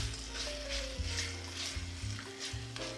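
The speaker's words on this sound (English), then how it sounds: "this pork belly is crisping up really nice" Pork belly pieces sizzle and crisp in a hot pan for a soup, a steady close frying hiss with small crackles and a low rumble throughout, no voices.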